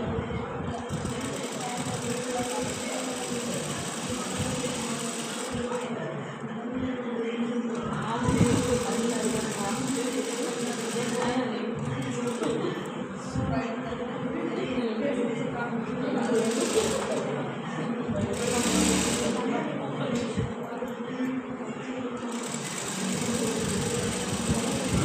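A sewing machine stitching salwar pants, with a steady, fast mechanical whirr that pauses and restarts several times while a person talks over it throughout.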